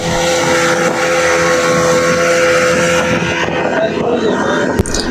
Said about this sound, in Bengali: এরপর আমাদের স্পিড বোটটা ছেড়ে দিল।